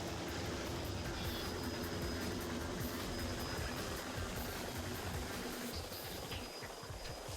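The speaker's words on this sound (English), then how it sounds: "It's a fucking helicopter, bro." Helicopter in the video game Devil May Cry 2, a steady loud rotor-and-engine drone filling the whole stretch under a dense game mix, with no talk over it.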